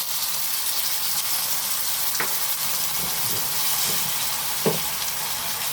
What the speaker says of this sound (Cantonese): 煎佢大約1分鐘到啦，跟住就落水啦，落半碗嘅清水，